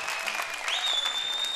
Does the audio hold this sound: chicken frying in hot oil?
no